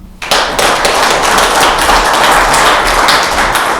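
An audience at the CBCS-IV opening session bursts into steady, dense clapping for the Zambia High Commission, starting abruptly and holding at an even, loud level throughout with no talking over it.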